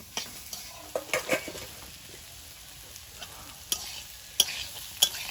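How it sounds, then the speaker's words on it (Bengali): A vegetable fry with peas stirred in a pan, a soft low sizzle broken by scattered clinks and scrapes of a spatula at irregular intervals, close but fairly quiet, no speech. "ভাজাটা হয়ে গেছে নামিয়ে নেবো"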